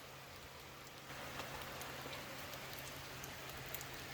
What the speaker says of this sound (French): on est dimanche, il pleut, mais il pleut.